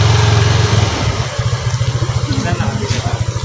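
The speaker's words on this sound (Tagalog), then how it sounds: "Maingay yung motor mo." A motorcycle engine idles close by with a steady, rhythmic low putter that runs unbroken for the whole few seconds.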